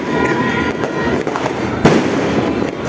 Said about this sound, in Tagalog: Ayaw ko palagpasin yung mga fireworks.